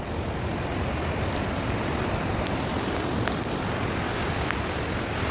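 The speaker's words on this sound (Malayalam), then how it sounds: "നല്ല മഴ വരുന്നുണ്ട്" Steady, heavy rain pours at a beach park in Muzhappilangad, a constant broadband hiss with wind buffeting the microphone and no voices over it.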